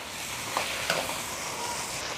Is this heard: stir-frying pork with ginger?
yes